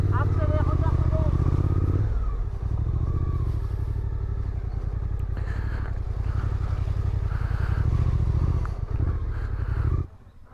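An off-road trail motorcycle on a beginner's ride in Brittany accelerates, its loud engine droning steadily for about ten seconds before cutting off sharply, with voices calling out over it.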